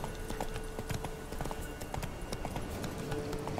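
Steady clip-clop of horse hooves trotting at a regular pace in The Witcher 3: Wild Hunt, with game music playing underneath.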